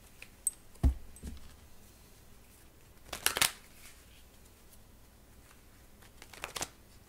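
Tarot cards being shuffled in a few brief riffling bursts, close and quiet in a still room, with pauses of near silence between them.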